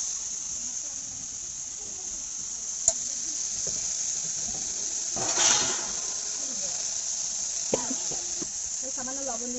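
Gima greens dropped into a pan of potatoes already frying in oil, giving a steady bright sizzle throughout with a brief louder hiss swell midway as they go in, plus a few faint clinks.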